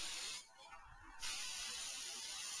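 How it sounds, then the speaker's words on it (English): A can of non-fat butter cooking spray hisses in two steady bursts onto baking pans, close and bright, separated by a short pause. "I'm going to use my non-fat butter spray generously."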